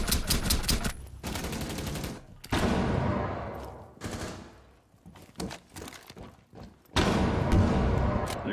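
Rapid bursts of automatic gunfire from a video game firefight, loud and close, sputtering on and off in dense volleys with brief gaps between them.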